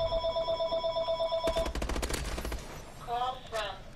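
A cell phone rings with a steady electronic tone during a Call of Duty: Advanced Warfare search-and-destroy match, then rapid in-game gunfire cuts in before the ringing briefly returns; a voice talks underneath.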